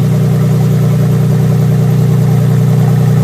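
A Jeep JK with a Dynomax Race Bullet exhaust idles close to the tailpipe, a loud, steady, low droning rumble that holds constant throughout with no talking.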